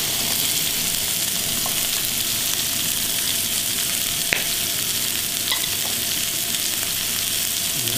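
Carrots fry in a hot pan in a restaurant kitchen during ossobuco preparation, a continuous close sizzle with faint stirring scrapes and a couple of sharp utensil clicks, no talking.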